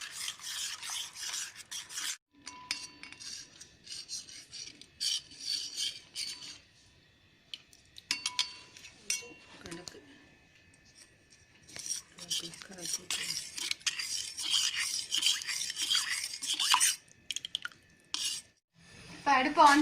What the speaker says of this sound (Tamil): கடலை மாவை மிக்ஸ் பண்ண போகிறோம்.